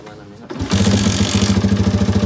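A motorcycle engine catches after a moment of quiet and settles into a loud, steady running putter with a regular pulsing beat, close by.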